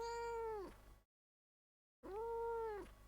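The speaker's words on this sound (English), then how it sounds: "Oh, that was a nice meow." A cat meows twice up close, each a drawn-out, falling mew, separated by a second of silence, with no talk.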